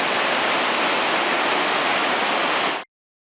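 A river on the Ozark Trail's Taum Sauk section rushes loudly with broad, steady white-noise roar, close and unbroken, before cutting off abruptly near the end.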